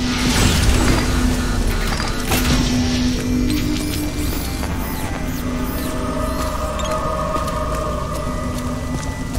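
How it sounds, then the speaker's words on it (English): In the Ghostbusters video game, a car strains against a gate tethered to its bumper: a continuous loud mechanical grind with creaking, squealing metal tones rising over it, steady throughout. "Tether the gate to my bumper and I'll pull it down"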